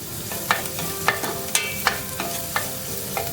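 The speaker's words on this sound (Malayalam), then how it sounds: "സവാള ഒന്ന് ജസ്റ്റ് ട്രാൻസ്പെറന്റ് ആവുന്നത് വരെ നമുക്ക് വാട്ടിക്കൊടുക്കാം" Onion sautéing in a pan over a medium flame sizzles steadily while a utensil scrapes and stirs in a loose rhythm of about eight sharp strokes, close and clear with no speech.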